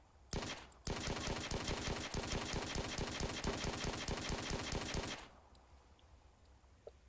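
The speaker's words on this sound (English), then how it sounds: "this is just the standard assault rifle" Standard assault rifle in an Arma 3 Mass Effect mod firing a rapid sustained burst of sharp cracks, a short shot first, then about four seconds of continuous fire ending abruptly into quiet.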